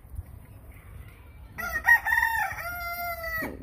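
A rooster on the outer edge of Melbourne crows once, a loud, drawn-out cock-a-doodle-doo that rises and then trails off after a short stretch of quiet low background noise.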